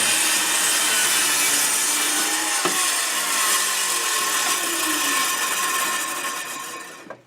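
Circular saw ripping through plywood along a straightedge, a steady loud continuous whine of the blade in wood with a brief knock midway, winding down as the cut finishes.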